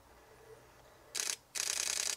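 A DSLR camera shutter fires in rapid bursts while photographing birds in flight: a short volley of quick clicks, a brief pause, then a longer continuous burst, close and crisp with no talking.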